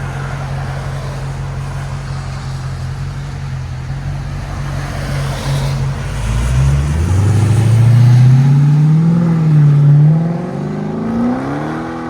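Dodge SRT Hellcat with Carven rear mufflers and 5-inch tips idles with a deep burble, then revs up into a loud, rising, throaty roar that holds and falls back toward idle.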